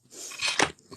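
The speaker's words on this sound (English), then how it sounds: "I'm just having some chocolate because I need to" A single brief mouthful of chocolate is bitten and chewed close to the mic, a short crunchy burst lasting under a second in quiet surroundings.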